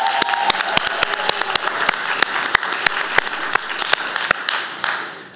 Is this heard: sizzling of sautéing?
no